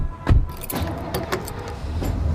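A family climbs into a car with keys jingling, a couple of door thumps, and the engine starting before it pulls away, heard close up with no talking.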